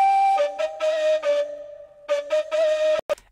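Layered flute tones play together in a looping phrase, a steady held note beneath short breathy bursts that start and stop rhythmically.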